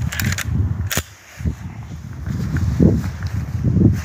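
A single sharp, loud report from an Arttech Prima .308 Win rifle firing a slow-burning, fouling powder at a range, followed by a low rumbling tail and ambient noise.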